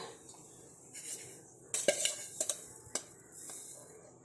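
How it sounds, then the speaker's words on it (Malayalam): A pot set down on a kitchen stove gives a few sharp metallic clinks and knocks, close and moderately loud, over a quiet room. "ഒരു പാത്രം എടുപ്പത്ത് വയ്ക്കുക"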